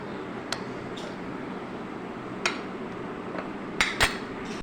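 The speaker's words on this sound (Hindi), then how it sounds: "इन सब चीज़ों को हमने बेसन में खूब अच्छे से मिक्स कर लेना है।" Spices such as ground red chili, turmeric and cumin being mixed into gram flour (besan) for tawa eggplant fry, heard as a soft low rustle with a few sharp clinks of a spoon against the bowl.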